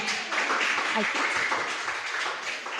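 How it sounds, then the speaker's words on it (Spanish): A church congregation claps steadily during a service, a broad wash of applause with a voice briefly heard over it. "Denle un fuerte aplauso al Señor."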